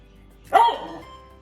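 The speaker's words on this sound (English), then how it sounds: "my dog is excited because she realized that it's one of her favorite food, which is fish." A single short, sharp bark from an excited dog indoors in a kitchen near food being prepared, close and fairly loud, with no talk.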